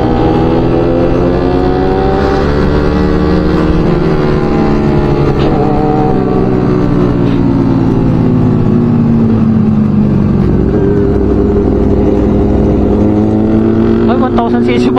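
A 1000cc motorcycle engine revs hard and close, its pitch rising and falling in a continuous loud roar while people talk over it.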